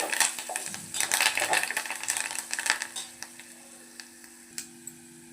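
Curry leaves crackle and sizzle in hot oil for a tempering while a spoon stirs them, the busy spitting easing into quieter frying with a few light metal taps.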